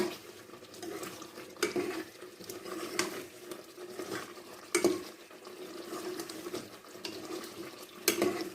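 Chicken karahi roasting in a pan while a spoon stirs, giving a continuous sizzle with periodic scraping knocks against the pan.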